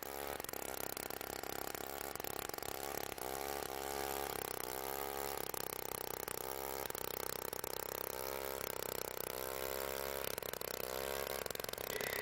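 A motorized ice auger drones steadily throughout, drilling holes for ice fishing in northern Minnesota, its pitch rising and falling as it bores, heard from a moderate distance against outdoor noise.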